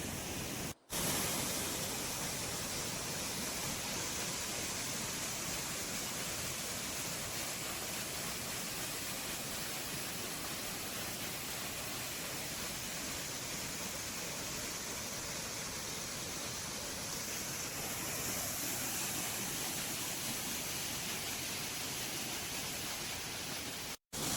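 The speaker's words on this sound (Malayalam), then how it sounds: "ഈ വെള്ളച്ചാട്ടവും" A waterfall beside rocks at a fishing spot, a steady, dense rushing roar of falling water heard alone and unbroken throughout.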